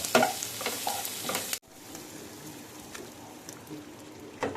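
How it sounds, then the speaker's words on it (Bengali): Chicken stirred in a pan with an onion-tomato mix for chicken do-pyaza, a loud close scraping and sizzling that cuts off abruptly, followed by a quieter steady sizzle with occasional faint spoon clinks. "এবার আমি মাংসটা আবার ভালো করে নেড়ে নিচ্ছি"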